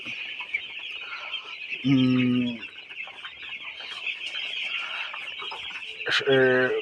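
Seven-day-old broiler chickens in a poultry shed give two loud, close clucking calls over a steady bed of high, constant chirping. Faint talk is audible in the background.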